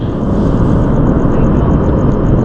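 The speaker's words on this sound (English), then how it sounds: "Somebody got a big jet right there." Steady broadband roar of a large private jet aircraft at an airport, continuous and loud for the whole stretch with a faint high whine on top and no talk.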